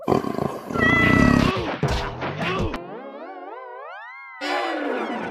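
A cartoon cat snarls and yowls amid crashing comedy effects, followed by a long wavering, sliding meow-like cry, all loud and close with no talk over it.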